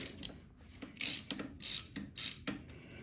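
A half-inch socket ratchet works the lower bolts loose on a Triumph Spitfire during a camber compensator installation, heard as several close, quiet bursts of ratcheting clicks in an even back-and-forth rhythm, with no voices.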